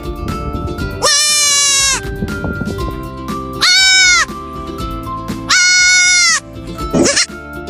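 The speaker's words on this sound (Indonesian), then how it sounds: "Suara kambing seperti apa ya teman-teman?" Three loud, drawn-out goat bleats, each about a second long, separated by short pauses with quieter background sounds in between.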